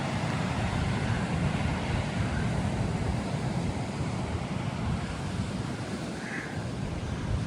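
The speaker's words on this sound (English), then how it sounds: "This is where I leave the beach." Ocean surf rolls onto a beach along the Wonthaggi coast, a steady broadband wash of breaking waves with wind buffeting the microphone, continuous and fairly close, with no voices.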